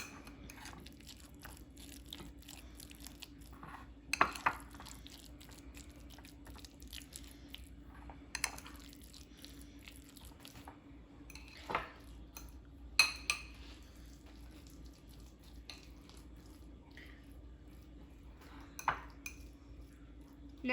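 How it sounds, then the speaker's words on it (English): Spoon mixing colorful enchilada filling ingredients on a plate, with soft scrapes and scattered louder clinks of metal against dish at a steady, unhurried pace, close by and alone. "Now we're gonna mix."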